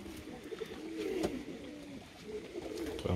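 Young homing pigeons cooing inside a loft, a few overlapping soft, low, throaty coos heard up close over quiet background rustle.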